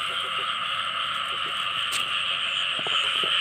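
Frogs croak at night after rain in a steady, droning chorus, with a few sharper croaks popping out nearby and a brief click in the middle.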